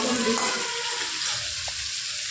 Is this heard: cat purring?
no